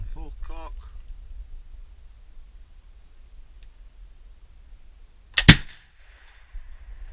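A Mortimer flintlock rifle fires once, a sharp loud crack with a short hissing tail, after a long quiet pause; a voice speaks briefly near the start.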